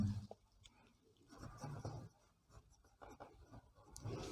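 A pen scratches across paper in short uneven strokes, soft and close, with brief pauses between bursts of writing and no talk.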